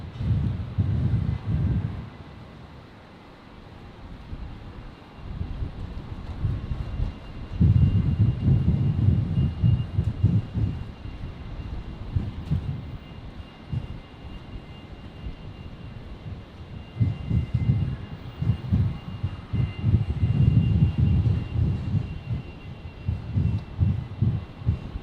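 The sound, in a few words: Qantas Fokker 100 airliner taking off at Brisbane Airport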